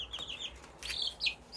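Backyard chickens make a few short, high clucks and chirps close by, scattered over a quiet yard with no talk.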